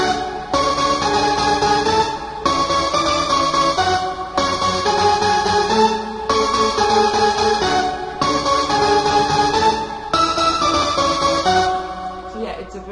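Layered synthesizer parts, including a detuned saw lead from a Nexus preset, play a steady electronic dance remix groove in repeating two-second phrases, full and loud with no voices.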